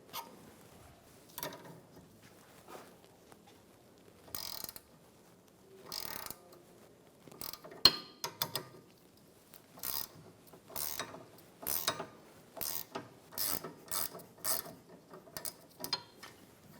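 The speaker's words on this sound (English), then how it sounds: "We're going to put a pair of locking pliers on the back side to hold it while we take the nut off." Ratchet clicking in short, repeated bursts as a sway bar link nut comes off the rear of a 2013-2017 Honda Accord, with locking pliers holding the back side; close and fairly quiet, with no talk.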